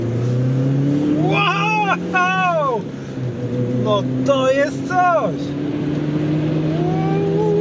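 A Volvo V40 T4 engine revs hard as it accelerates in second gear, its tone rising and falling with the throttle while someone speaks excitedly over it.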